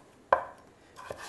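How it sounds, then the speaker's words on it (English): A knife dicing pumpkin on a cutting board gives one sharp, close chop followed by a softer second cut, with no talking. "So the smaller that we dice it, the quicker the soup will cook."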